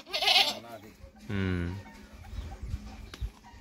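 Small goats in a village bleat twice, a high wavering cry and then a strong, lower harmonic bleat, both close by, followed by rustling and shuffling noise.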